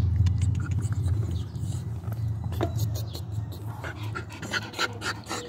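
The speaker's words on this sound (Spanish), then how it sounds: "Perro vago, perro vago." A dog pants rapidly and loudly close by on an outing, rhythmic breathy huffs running the whole time, with scattered scraping and patter of movement.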